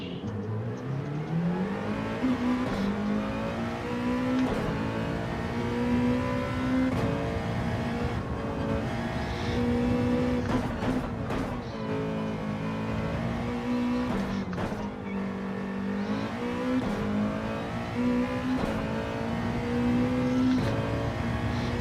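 A GR2 GT race car lapping Le Mans in Gran Turismo 7, its engine droning loud and steady throughout with rising and falling revs through the gears and brief shifts, heard alone without talk.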